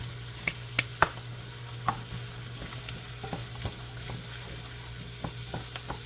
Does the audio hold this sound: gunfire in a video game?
no